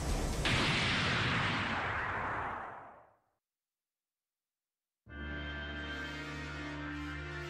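Explosion attack effect in the Saint Seiya Soldiers' Soul fighting game: a loud rushing blast that decays over about three seconds, a sudden silence, then a dense sustained burst of energy effects.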